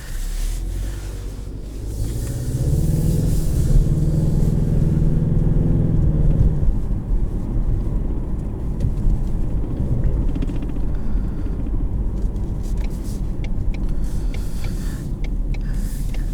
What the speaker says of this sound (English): I'll do normal drive and then I'll do paddle shift mode the second time around.